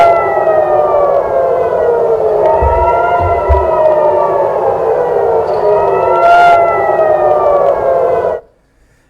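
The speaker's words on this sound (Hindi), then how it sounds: "इजराइल के तेल अवीव में सायरन बजने" Loud air raid sirens in Tel Aviv, Israel, during Iranian attacks, wail continuously, their pitch rising and falling in long sweeps, then cut off abruptly near the end.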